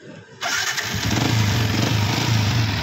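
A Yamaha Sniper 150 motorcycle, running its stock ECU while being checked for a radiator fan fault, cranks and fires up after a short silence, then settles into a loud, close, steady idle.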